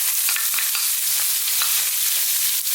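Onions dropped into hot oil in a pan for an Indian tofu curry, a loud, steady close-up sizzle with faint crackles and light stirring, no voices.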